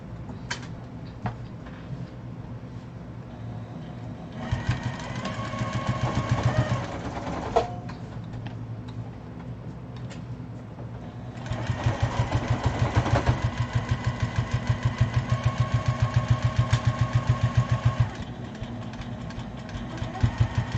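A sewing machine stitching a mat, running in bursts with a fast rhythmic mechanical whirring that stops and restarts, the longest run in the second half, close and loud with no talking.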